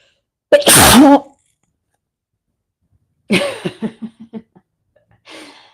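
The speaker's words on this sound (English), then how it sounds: "I have a sneeze brewing" One sharp, loud sneeze, then after a pause a second burst trailing into a quick run of short gasping breaths, and a soft exhale.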